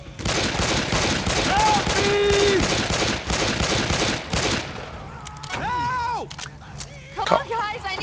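Rapid bursts of gunfire from the zombie shooter game Left 4 Dead 2, dense and loud through the first half, thinning later among game sounds and shouted voices.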